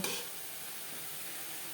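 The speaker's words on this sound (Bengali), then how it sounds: "নাড়াচাড়া করে ড্রাই করে দেব" Vegetarian beto greens fry in a pan while being stirred dry, with a brief scrape at the start followed by a close, even hiss of sizzling that stays steady throughout, with no voices.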